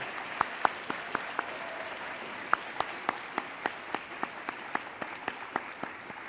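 An audience at an awards ceremony applauds its honorees, steady clapping from the crowd punctuated by several sharp, close individual claps ringing out above the rest.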